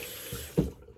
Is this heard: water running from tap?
yes